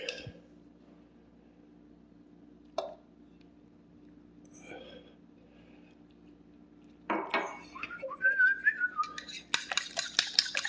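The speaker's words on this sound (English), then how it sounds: "I heard the tune and I just keep whistling that part of it" Someone whistles a short, wavering melody near the end, after clinks of dishes and utensils, close and moderately loud.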